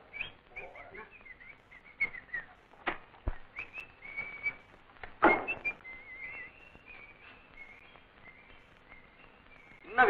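Someone whistles inside a bathroom: intermittent, fairly faint whistled notes and trills run throughout, broken by knocks and clatter, with some talk in the background.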